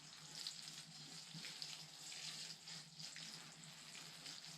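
Water poured from a hose onto soil in a container while peach and nectarine trees are heeled in, a faint steady hiss and trickle running continuously with no talking.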